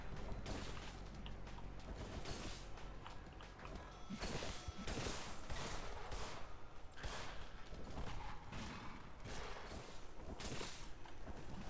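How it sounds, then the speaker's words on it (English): Gunfire from a handgun and shotgun in the horror video game In Sound Mind, shots cracking one after another in dense bursts over a tense game soundscape, no talk. "What are you shooting at, you dummy?"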